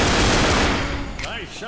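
Loud automatic gunfire in the Left 4 Dead video game, a continuous dense burst of shots that tails off near the end, with a voice faintly mixed in.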